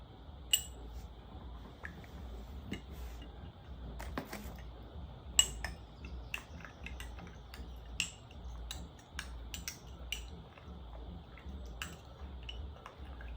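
A teaspoon of powder being mixed inside a container, with faint, irregular ticks and clinks of a spoon against the sides over a quiet background.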